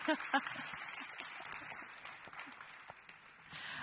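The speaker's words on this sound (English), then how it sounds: "We have to clap for that." Audience applause at a policy dialogue session, a soft patter of clapping hands that stays faint and steady for a few seconds, with a couple of sharper claps near the start.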